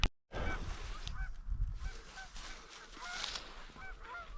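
Geese honking as they fly over during a goose hunt, repeated nasal honks from several birds at moderate distance, overlapping in an irregular chorus over faint background noise.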